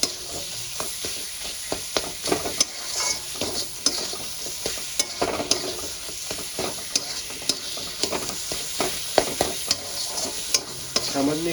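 Ground spices with salt and turmeric fry for palak rice while a spatula scrapes the pan again and again, a rhythmic run of close knocks and scrapes over a constant sizzle.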